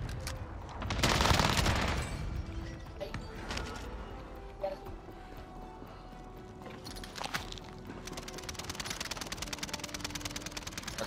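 Gunfire in Call of Duty: Modern Warfare, a loud burst of shots early, then scattered faint pops and a rapid rattling volley near the end over a quiet battlefield background.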